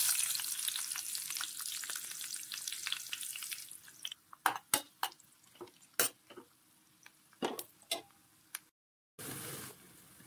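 Onions sizzle in hot oil in a pan for paneer donne biryani, a steady frying hiss with a run of sharp crackles and pops, then a brief silence before the sizzle resumes.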